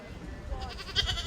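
A goat of a breed from Holland bleats from nearby in a Walloon farm setting, one short bleat under a man's French speech.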